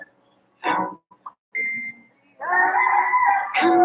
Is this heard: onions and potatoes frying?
no